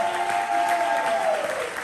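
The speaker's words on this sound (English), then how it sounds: "Keep that applause going for the next poet on the mic" Crowd applauding a poet at an Atlanta spring poetry slam, dense continuous clapping from the audience, with a sustained tonal hum or whistle running underneath.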